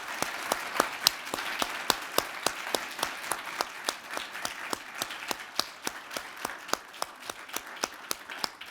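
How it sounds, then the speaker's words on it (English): A conference audience applauding steadily after a talk, with individual sharp claps standing out in a dense, even patter that continues throughout. "invite the room to join me in a round of applause for President Collins"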